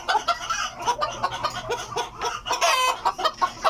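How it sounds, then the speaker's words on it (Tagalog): Laying hens cluck and squawk close by in a busy, overlapping chorus of short calls, with one louder drawn-out squawk partway through. "So ito naman yung mga layer ko na manok"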